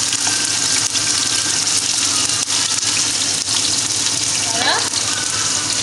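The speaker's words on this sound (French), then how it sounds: "Je vais mettre l'oignon que je vais laisser cuire un peu quelques minutes." Chopped onion frying in a hot pot for an African okra stew, a steady broadband sizzle and hiss running throughout at close range, with a brief spoken word over it.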